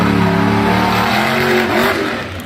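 A Bounty Hunter monster truck at a Monster Jam freestyle event in Salinas revs hard, its loud engine roaring steadily and close with a rising, straining pitch through the whole stretch, no voices present.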